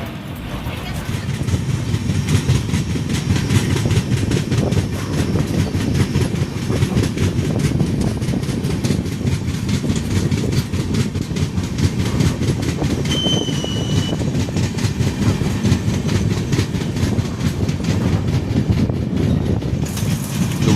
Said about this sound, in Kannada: ನ್ಯೂ ಡೆಲ್ಲಿ ರೈಲ್ವೆ ಸ್ಟೇಷನಿಂದ ನಾವು ಹೊರಡ್ತಾ ಇದ್ದೀವಿ ಇವಾಗ